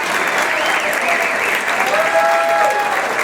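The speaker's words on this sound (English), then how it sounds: "o-chair, Linda Swiderski and Cheryl Budgish, deserve a hearty round of applause." A crowd at an awards ceremony in Independence, Ohio applauds steadily with dense, even clapping throughout, loud and close, with faint voices mixed in.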